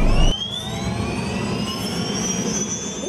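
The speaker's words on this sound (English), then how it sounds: "This STAT MedEvac helicopter is ready to take off at a moment's notice from Elser Airport in North Lima." A STAT MedEvac medical helicopter's turbine engine runs at Elser Airport in North Lima, a loud, steady whine with high tones slowly climbing in pitch over a low rumble, after a brief louder burst at the start.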